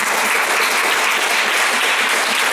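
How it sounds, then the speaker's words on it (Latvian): Dense, steady applause from a festival audience at a guitar music event, many hands clapping together at an even loudness with no pauses throughout. "vēlēsim ar aplausiem ilgu un skanīgu mūžu šim brīnišķīgiem pasākumam"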